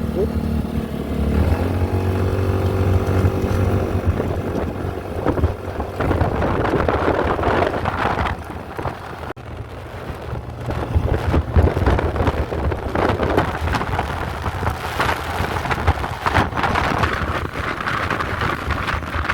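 A Suzuki Burgman Street 125 scooter fitted with a Kenshi Hanzo exhaust and carrying two riders, its engine droning steadily on flat ground with rising pitch under acceleration, mixed with wind buffeting the microphone.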